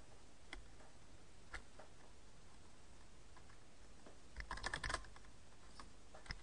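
Password keys tapped on a computer keyboard in scattered single clicks, with a brief denser flurry of keystrokes near the end; quiet and close, no talking.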